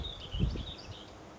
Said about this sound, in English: And you can hear the bird song.